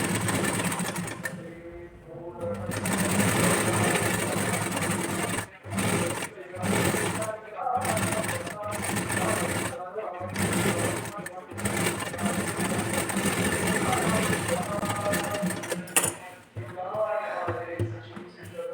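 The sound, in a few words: sewing machine stitching the neckline of a blouse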